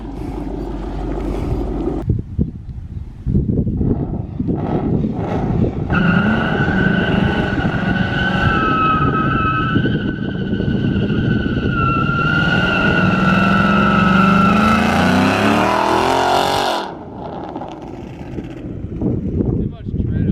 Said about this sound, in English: So here's those clips. Burnout.